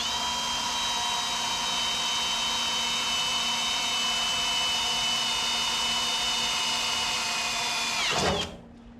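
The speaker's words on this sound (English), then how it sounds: "we need to drill little holes." A power drill drilling small holes while building a fabrication table whirs steadily at high speed for several seconds, loud and close, then winds down abruptly near the end.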